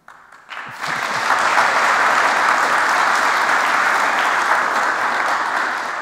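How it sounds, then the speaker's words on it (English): Conference audience applauding after a talk on Linuxboot continuous integration, a sustained even wash of clapping that starts abruptly, holds steady for several seconds and eases slightly at the end. "You earned that applause."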